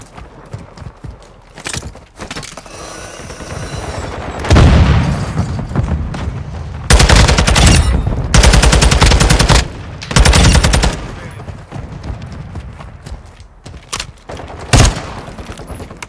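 Rapid bursts of TAQ-56 rifle fire in the Modern Warfare 2 video game, loud and close, with several sustained automatic volleys and short gaps between them.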